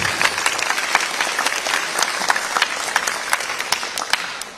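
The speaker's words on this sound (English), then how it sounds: "Give yourselves a round of applause" Dense applause from a concert audience at a middle and high school band spring concert, steady sustained clapping with sharp individual claps throughout, close and loud.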